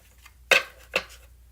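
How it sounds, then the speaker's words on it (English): Two brief papery riffles of tarot cards being shuffled, close and fairly soft, about half a second apart over quiet room hum. "so I gotta shuffle"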